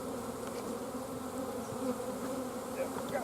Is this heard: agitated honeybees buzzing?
yes